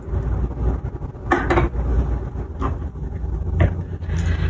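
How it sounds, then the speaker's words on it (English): A fork mashes Greek yogurt, honey and lemon zest in a bowl, giving a few irregular nearby scraping clinks against the bowl over a low steady background hum. "all I've got is this fork, so we're just gonna mash it"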